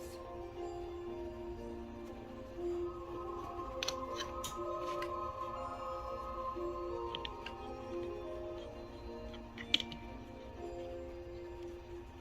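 Scissors trim excess fabric from an embroidery hoop in a few quiet, scattered snips and ticks over a low steady room hum, with no voices.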